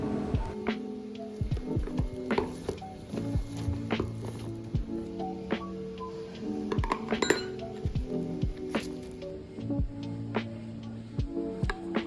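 Glass and metal utensils clink, tap and knock during preparation of a glass of matcha latte, with close, irregular bright clinks and small kitchen clatter continuing steadily throughout and no talking.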